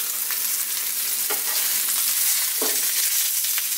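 Burger patties sizzle steadily in a hot pan, a dense bright hiss throughout, with a couple of soft thuds and scrapes as the patties are flipped, close and alone.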